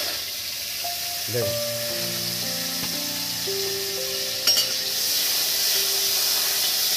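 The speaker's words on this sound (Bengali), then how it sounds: "বন্ধুরা এবার এই কড়ার মধ্যে জল দিয়ে দিচ্ছি। দেখুন আর তেল, এই দেখুন সরিষার তেল।" Water poured into a hot wok of mustard oil sizzles and hisses steadily throughout, with a short louder burst partway, while a voice speaks briefly over the cooking.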